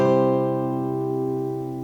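A guitar chord played in an E shape rings out once, strummed and sustaining with rich overtones and slowly fading, alone without talk.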